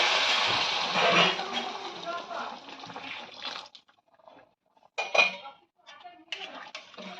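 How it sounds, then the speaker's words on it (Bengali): Heated water pours into a pan of spiced potatoes, a few seconds of rushing splash and sizzle that stops, followed by scattered clinks of a utensil against the pan. "এবার এইদিকে আমি সাইডে জল গরম করে নিয়েছিলাম, সেই জলটা এবার আমরা আলুর মধ্যে দিয়ে দিচ্ছি।"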